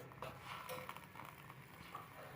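Sliced pumpkin stirred in a pot of spiced lodeh broth produces a quiet, faint simmering bubble with light scraping and stirring touches throughout.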